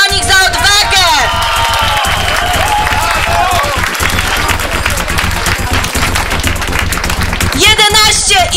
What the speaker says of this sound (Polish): Brawa dla nich za odwagę!